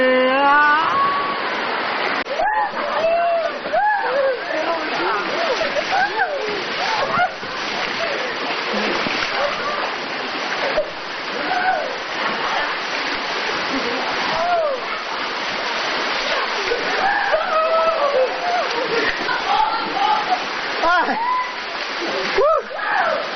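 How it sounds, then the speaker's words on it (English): Water rushes and splashes constantly while rafting, a loud continuous wash with occasional bursts, and people shout and talk over it throughout. "That's water rafting."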